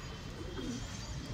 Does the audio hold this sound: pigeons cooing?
yes